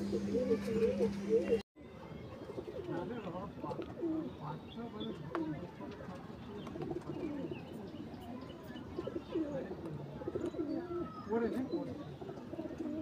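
Pigeons at a breeder's loft coo faintly in the background while someone talks over them.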